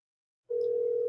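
Telephone tone during an outgoing call; silence, then a steady, sustained electronic tone starts abruptly and continues unbroken, with no talking.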